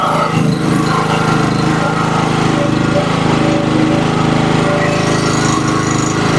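A 2.8 kW petrol generator runs steadily close by, a loud, unbroken engine drone with a buzzing mechanical rattle that holds level throughout.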